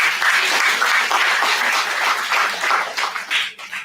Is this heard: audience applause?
yes